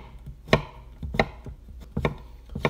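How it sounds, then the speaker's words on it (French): A knife cuts zucchini into small cubes on a board, giving five sharp, distinct chops spaced about half a second to a second apart, close and clear with no talking. "Alors là je vais en conserver la moitié que je vais couper en petits cubes."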